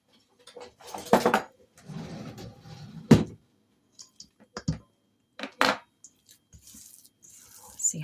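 No-bake cookie mixture is scooped and dropped with a cookie scoop, giving close, soft sticky squishes, scrapes and light taps at irregular moments with quiet pauses between, no voices.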